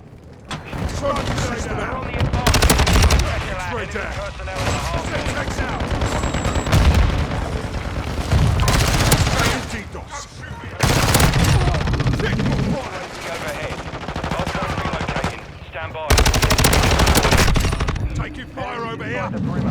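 Gunfire in a video game shooter rattles almost without pause, automatic bursts and heavy booms in close, loud waves broken by brief lulls, with a voice speaking faintly beneath the shooting.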